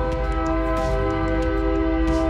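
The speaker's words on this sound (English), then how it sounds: "got a train going on here" A passing train sounds its horn in a sustained, loud chord of steady tones over a rumbling low end, lasting the whole couple of seconds without talk.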